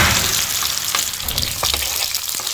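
Beef chapli kabab mixture fries in a pan over a raised flame, giving a steady, close, loud sizzle with scattered crackles and pops and no break.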